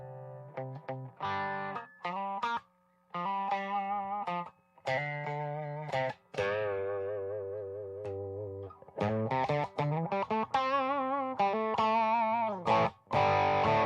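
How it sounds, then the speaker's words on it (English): Electric guitar with a DiMarzio Chopper T pickup through a Tube Screamer overdrive, with no delay or reverb, plays a crunchy riff of chords and single notes, loud and continuous, with brief gaps between phrases. "And you'll throw a tube screamer in front of it."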